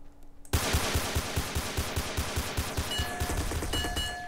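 Rapid, steady gunfire from dual pistols in the multiplayer game SA-MP, a fast regular burst of close, loud shots after a brief quiet start.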